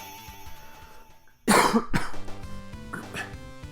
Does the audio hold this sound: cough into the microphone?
yes